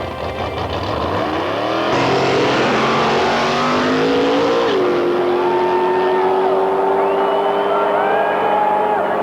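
A drag racing dragster running with no oil roars loud and steady, engine pitch climbing through a long full-throttle pass and holding high at the end, with no talk over it.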